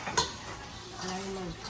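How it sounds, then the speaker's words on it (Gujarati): Spice tempering for kadhi sizzles in a pan, with a sharp clink near the start and a steady frying hiss that briefly swells, close and moderately loud. "ચોથો વઘાર ચાલુ છે"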